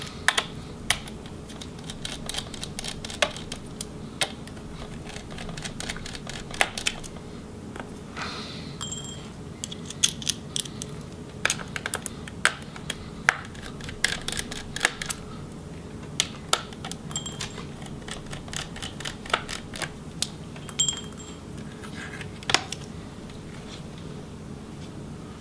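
Small screws being backed out of an Alienware 14 laptop, giving a run of light, sparse metallic clicks and ticks throughout over a faint steady hum, close and quiet with no talking.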